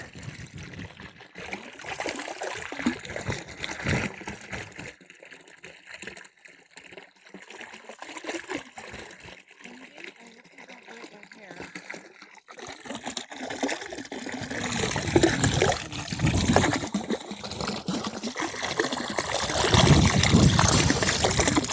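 Cold water runs and trickles steadily through a pipe on a ranch, growing louder and fuller toward the end, with a continuous rushing flow close to the listener.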